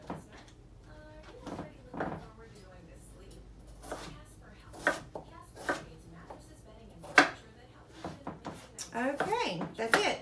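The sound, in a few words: knife cutting jicama into sticks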